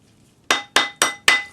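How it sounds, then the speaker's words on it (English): A small hammer strikes a metal bezel being shaped for a 4mm faceted stone, four crisp, close taps at a steady pace, each ringing briefly with a bright metallic tone. "gently hammering until the gap is correct"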